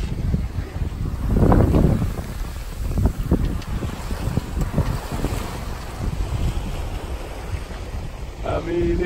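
A sailboat running almost downwind on a broad reach along the inside route around Cape Hatteras, with water rushing along the hull and steady wind buffeting the microphone.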